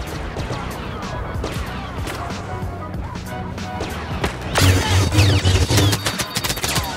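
Blaster turret gunfire in the video game Star Wars Battlefront, with Darth Vader attacking a turret: dense, continuous rattling bursts of shots and impacts, growing louder and heavier in the latter half.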